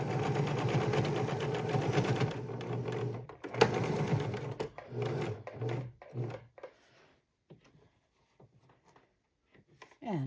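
Fabric drink coaster layers are stitched on a sewing machine: a loud, steady motor whir breaks into short stop-start bursts, then fades to near quiet with a few faint handling clicks.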